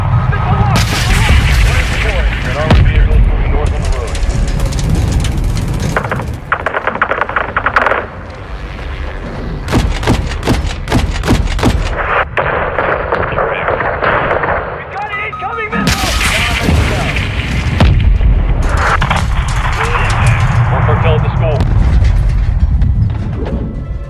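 Incoming missiles explode in Call of Duty Modern Warfare 2: loud, sustained blasts and gunfire follow one another almost without a break for over twenty seconds, with occasional voices shouting amid the barrage.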